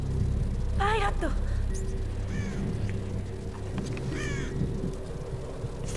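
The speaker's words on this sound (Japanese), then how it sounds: "ちょっとカラスたちがいっぱいあるな。" Several crows caw in short rasping bursts within the Tomb Raider video game, repeated calls scattered over a steady background drone of game ambience.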